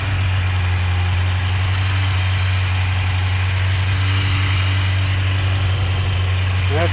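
A 1981 Yamaha FJ 750 Seca motorcycle, freshly carb-rebuilt, idles with a steady, loud low hum that holds even and unbroken throughout.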